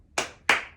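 Two sharp hand claps in the rhythm of the Israeli circle dance Zemer Atik, close and distinct with a short gap between them and no talking.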